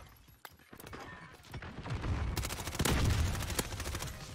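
A shooter video game with an MP5 in play, where rapid bursts of loud, close gunshots crackle in quick succession and grow denser in the second half of the clip.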